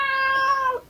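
A cat lets out a single clear, drawn-out meow close by, nearly a second long and falling in pitch at the end, with no other sound around it.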